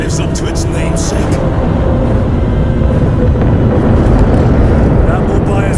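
Aircraft engines approaching in Warhammer 40K Space Marine 2, a loud, broad roaring rumble that swells steadily under voices talking and other game noise.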